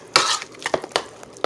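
A spoon stirring hot water cornbread batter in a bowl, made with boiling water, giving scraping, clinking strokes in an uneven rhythm, close up and fairly loud, with no talk.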